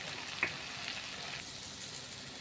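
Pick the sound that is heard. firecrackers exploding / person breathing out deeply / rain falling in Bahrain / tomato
tomato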